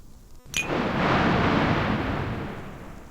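Thunder in a storm in the Love and Deepspace game: a sharp crack, then a loud, deep rumble that swells and rolls on for a few seconds before slowly fading, with no voices.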